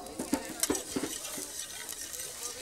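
Butter mixed with chopped fresh mint is whisked into a pan sauce for pork, a rapid series of close, soft strokes and scrapes with a faint sizzle underneath.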